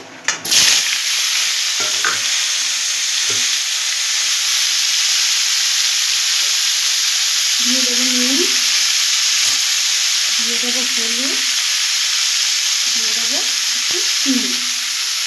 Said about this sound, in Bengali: ফুলকপিগুলো আমি জলে ভাপ দিয়ে ফেলে হালকা করে একটু সিদ্ধ করে নিয়েছি এবার এগুলোকে আমি একে একে ভেজে তুলে রাখবো